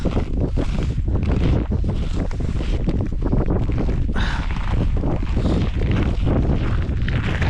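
Strong wind gusts across a frozen lake on a winter pike-fishing trip, roaring and buffeting the microphone loudly and continuously with no talk.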